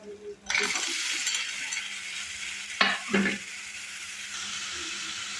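Chunks of red pumpkin drop into hot oil spiced with turmeric, setting off a steady sizzle with a brief clatter of stirring about halfway through, heard close up.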